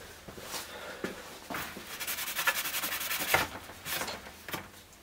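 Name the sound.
wiping plastic bodywork clean with brake cleaner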